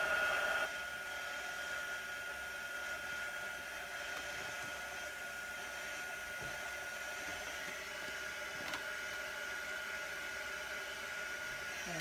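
A hair dryer blows a steady, even whoosh to dry chalk paste on a tiered tray decoration, alone and fairly quiet, with only faint clicks beneath it.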